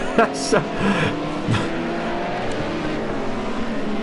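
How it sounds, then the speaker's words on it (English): Group A touring race cars run together downhill at Bathurst, engines droning steadily with a few sharper transient bursts, heard beneath a commentator's talk. "What a beautiful sight, all these Group A cars together."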